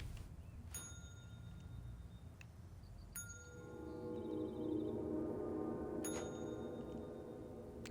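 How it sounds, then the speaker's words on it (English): A bell rung in the video game Control, three clear metallic dings spaced about three seconds apart, each ringing out with a long bright decay, then a low hum rises under the last two, no talk. "now I'll ring the bell"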